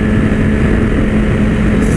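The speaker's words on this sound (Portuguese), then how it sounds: "Sem falar o barulho do escape, tá berrando pra caramba" Honda CBR 1000RR Fireblade motorcycle exhaust roaring steadily and loud at close range, a continuous deep engine drone with heavy wind noise and no pauses.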